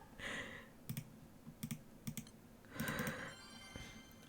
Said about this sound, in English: The most you're hearing is my mouse clicks.